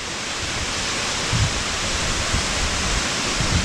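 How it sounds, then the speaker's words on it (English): Smith Falls, Nebraska's tallest waterfall, heard close up as a steady broadband roar of falling water with faint low thumps. "I'm at Smith Falls, Nebraska's tallest waterfall"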